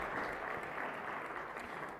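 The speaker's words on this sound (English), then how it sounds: "Give a big round of applause for Heybooster" An audience at a startup founders' pitch competition finale claps steadily, a dense, even wash of applause from many hands throughout.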